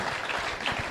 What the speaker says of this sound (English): I want us to clap our hands as we introduce on stage Mr. Ejimi Adegbeya.